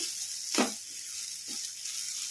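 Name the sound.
white sesame seeds and fenugreek leaves frying in a pan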